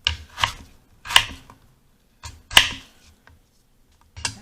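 Knife chopping daikon radish on a cutting board, six crisp separate cuts in an uneven rhythm with short pauses between them, close and clear with no talking.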